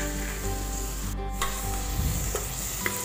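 Brown rice pulao ingredients sizzle steadily in a pan while being stirred, a continuous close frying hiss with occasional soft scraping strokes.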